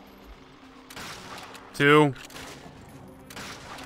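Gunfire in the video game Call of Duty: Finest Hour as tank escorts are shot, with a few sharp bursts spread through the moment and a voice speaking briefly over the action.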